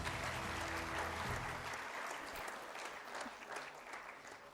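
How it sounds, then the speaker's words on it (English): An audience applauds at an award ceremony with loud, sustained clapping that gradually thins out over a few seconds. "Ladies and gentlemen, can we have a big applause?"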